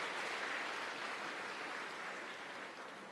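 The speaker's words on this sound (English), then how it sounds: "Why are you clapping?" Applause from an audience of IIT Madras students, a steady wash of many hands clapping that stays even and moderately distant, slowly fading slightly, with no talking.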